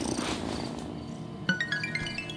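A cat purring during head scratches in the video game Wylde Flowers, a soft continuous rumbling purr heard with gentle game chimes and tones toward the end.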